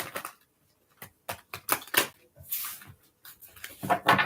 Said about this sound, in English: I'm going to give it a couple good shuffles though.